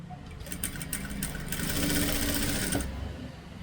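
A sewing machine stitches the underarm section of a garment sleeve in a steady, fast mechanical whir. The run continues for about three seconds and then stops. No one speaks.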